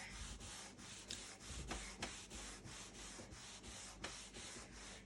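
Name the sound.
wiping hemp salve furniture wax onto wood with cloth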